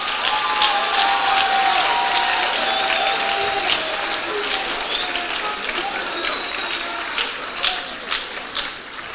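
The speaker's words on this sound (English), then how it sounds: "one more round of applause for 424 students honored here today for Honor Roll" A large school assembly crowd applauds students honored at an honor roll ceremony, a broad sustained clapping that holds for several seconds and then thins out, with scattered louder individual claps near the end.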